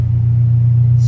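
A car engine idles in a garage with a deep, steady low rumble, loud and close, holding even throughout without revving.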